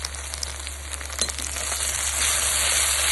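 Garlic, chili and ginger paste sizzles in oil in a pan while greens curry is cooked, a steady broadband frying hiss that swells louder partway through, with a low hum underneath and no talking.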